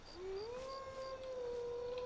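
A wild animal in the Skyrim video game howls once, a single long, rising and then steady wolf-like howl heard faintly from a distance over quiet background noise.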